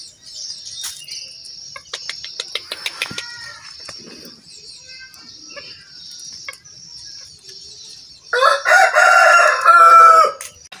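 Black and red Pelung rooster crowing near, long drawn-out crows with a loud, harsh burst near the end, plus some clucking and faint insect chirps in a quiet outdoor setting.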